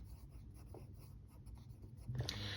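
A pen writes on paper close by, giving a faint, continuous scratching with small strokes. It grows a little louder near the end in a quiet room.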